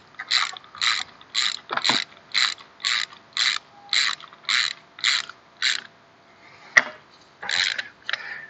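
Ratchet tightening a butterfly valve spindle: about a dozen evenly spaced, close clicking pulls in a steady rhythm, a brief pause, then a sharp knock and a few more ratchet strokes.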